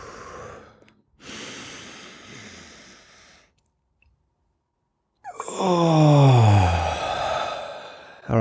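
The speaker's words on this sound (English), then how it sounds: "So we'll breathe in now, yeah?" Deep slow breathing during a calm breathing exercise: a long airy inhale, a pause of silence, then a loud, strained, voiced exhale close to the microphone, with no talking.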